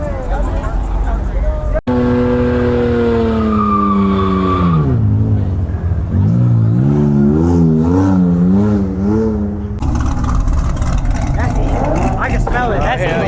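A 600 hp Dodge Scat Pack muscle car revs hard and spins its tires at night, with a loud sustained engine roar, climbing and wavering pitch, tire squeal and a sharp bang, while people talk over it.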